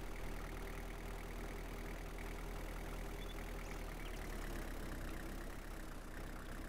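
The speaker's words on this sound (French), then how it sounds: "Donc je vais aller chercher mon tracteur, un des deux." Tractor engine idling in Farmer's Dynasty, a steady mid-low rumble with a faint knocking texture, continuous and even throughout with no talk.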